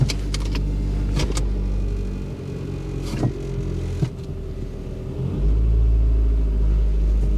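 A Lincoln MKX engine runs at idle with a faint whine and a failing alternator, a low steady rumble broken by a few sharp clicks and knocks, the idle swelling louder near the end.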